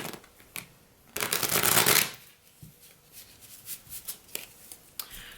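Tarot cards riffle quickly in a loud burst of shuffling, followed by softer taps and light card handling sounds nearby.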